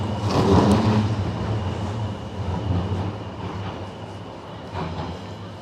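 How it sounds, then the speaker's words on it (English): Riding a tram through the streets of Sheffield, England: a loud, steady rolling rumble with low mechanical drone and swells of wheel and track noise, no voices over it. "So I'm gonna take the tram. Let's take the tram again."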